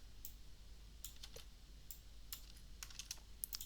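Typing on a computer keyboard as a sparse run of light, crisp key clicks at an irregular pace. The clicks are faint and close, with no talk.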